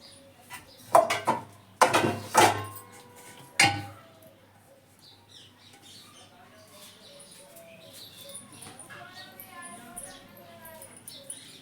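A pot of potatoes is set down to boil, with several sharp metallic clanks and knocks near the start, then quieter kitchen handling under background voices.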